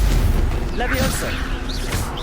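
Levioso levitation spell cast during Hogwarts Legacy gameplay: a loud magical whoosh with rising, warbling shimmer tones that swirl for about a second over a steady low rumble of game noise, followed by a shorter chirping sweep near the end.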